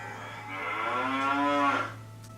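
A single cow moo from an iMovie sound-effect library, a long, clear, rising and falling low call that stands alone for about a second and a half.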